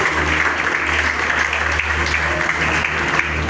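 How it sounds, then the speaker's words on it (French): An audience at a celebration marking a comedian's twenty-year career applauds loudly and continuously, a thick, sustained clatter of many hands with a low hum running underneath. "Est-ce qu'on peut applaudir encore une fois très très fort?"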